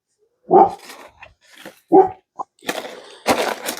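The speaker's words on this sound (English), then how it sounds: "Marvel is barking at whoever, whatever that is." A dog barks several times nearby, loud single woofs with short gaps, mixed with softer whimpers and some indoor rustling.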